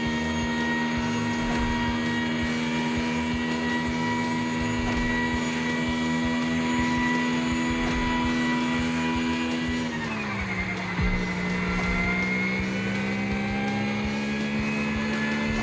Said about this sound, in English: I want to make sure you can hear me over this obnoxious sounding car.